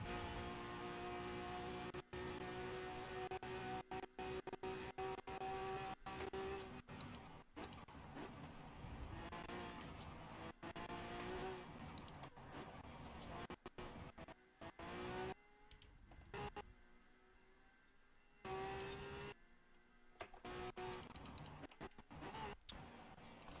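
A race car lapping a circuit in a racing video game, its engine droning loudly with rising and falling pitch through gear changes, broken by abrupt cuts and bursts, with no talk.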